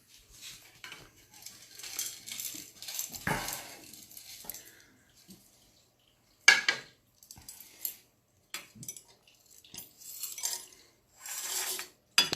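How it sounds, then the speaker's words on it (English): Small pieces of 18 carat red gold drop and clink into a graphite crucible inside a melting chamber, scattered light metallic taps and jingles separated by quiet gaps. "let's put the gold to the melting chamber"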